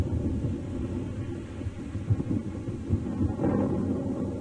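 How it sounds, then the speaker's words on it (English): Thunder rolling in a storm, a continuous low rumbling roar with irregular swells and a brighter crackle near the end, moderately loud and heard alone. "A strong wind rose, the lightning flashed, and the thunder rolled."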